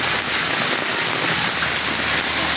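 Steady, even rain hisses without pause, a dense wash of drops close by with no voices.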